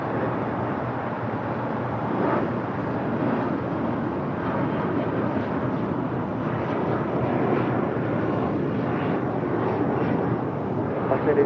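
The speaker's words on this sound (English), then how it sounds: "JSX and Embraer taking off here on the south side, heading to Vegas." JSX Embraer jet taking off from the south side bound for Las Vegas, a steady moderate engine roar that holds through the whole stretch.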